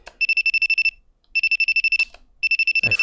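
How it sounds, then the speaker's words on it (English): An electronic phone ringtone trills in three bursts of rapid pulsing beeps, each separated by a short pause, loud and close, with a faint thump or rustle near the end. "Then I realize it's just the sound of a phone."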